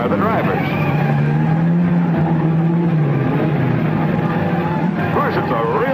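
Racing cars, world champion Ascari's Ferrari leading, roar past the stands at a 1953 Argentine road race, a loud steady engine drone with rising and falling pitch, under a narrator's voice.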